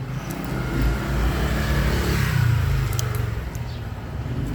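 A small car used as a personal service vehicle runs with a steady engine rumble, rising slightly midway as if revving or pulling off, close and continuous without talk.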